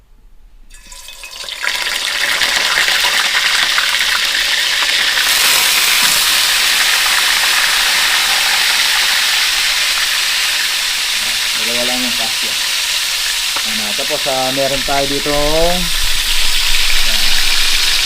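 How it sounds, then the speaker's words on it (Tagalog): Loud, continuous sizzling of tilapia frying in hot oil, with a person talking briefly over it near the end. "prito naman tayo ng ating tilapia"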